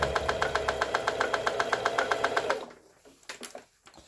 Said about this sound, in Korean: 후진 바느질이라는 건 뒤로 박음질 한다는 거죠